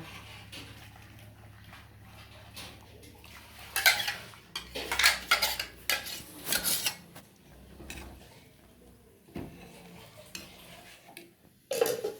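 Ground coconut paste going into a pot of sambar brings quiet clinks and scrapes of a spoon against the metal pot, in scattered bursts of stirring between calmer stretches.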